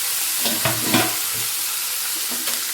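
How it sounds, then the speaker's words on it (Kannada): Cluster beans frying with tomato in a pan, a continuous close sizzle broken by a few stirring scrapes and clinks, with no talk. "ಚೌಳೆಕಾಯಿ ಹಾಕ್ಕೊಂಡು ಚೆನ್ನಾಗಿ ಮಿಕ್ಸ್ ಮಾಡ್ಕೋಬೇಕು."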